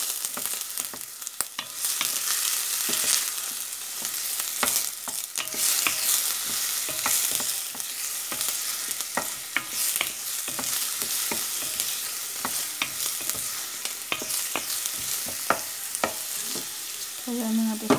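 Ingredients sautéing in a pan for Filipino chicken afritada: steady close sizzle broken by frequent sharp spatula scrapes and taps in an uneven rhythm, with a brief clink near the end and no talking.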